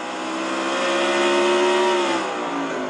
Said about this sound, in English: these engines, they rev so high here at Martinsville